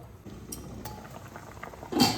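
A lid set down on a pot of boiling potatoes, one fairly loud metallic clatter near the end, preceded by faint clinks and a soft background hiss.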